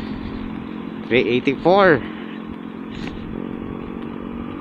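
Motorcycle riding through flooded city traffic during a delivery trip, a continuous engine drone throughout, with someone talking over it partway through.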